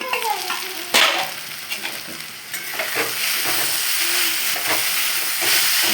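Fish coated in salt and turmeric fries in a pan with beaten egg added, giving a steady, close sizzle and hiss with occasional stirring scrapes and a sharper burst near the start.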